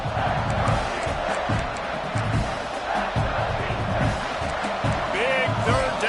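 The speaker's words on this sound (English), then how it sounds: "this crowd is getting behind this defense" A home crowd in a football video game roars steadily throughout, with a dense crowd wash and scattered shouts, and a commentator talking over it.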